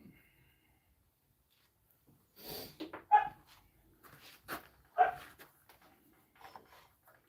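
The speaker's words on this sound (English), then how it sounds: "That is our dog saying, you've had your fun, let me in." Pet dog outside on a farm, barking and whimpering to be let back in: a few separate yelps and whines spread over several seconds, moderately close, with quiet gaps between.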